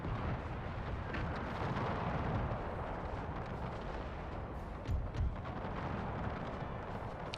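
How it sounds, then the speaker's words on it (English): Cannon artillery fire in the Napoleon Total War video game, a dense continuous rumble of distant booming shots layered over battle noise, with a couple of sharper bursts near the end. "Let's give a little bit more cannons going through here."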